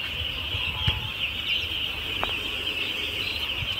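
Chickens with small chicks cluck and peep close by, soft scattered calls over a steady high insect-like hum outdoors.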